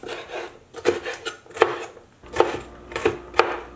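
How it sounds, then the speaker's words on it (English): A knife chops a bell pepper into small squares on a cutting board. It gives about six close, moderately loud strokes in an uneven rhythm, with no talking. "we're just gonna start moving and cutting little squares"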